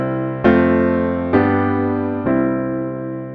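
Three piano chords played with inversions over a deep added bass note, each struck firmly and left to ring with a rich low end, spaced about a second apart with no talking.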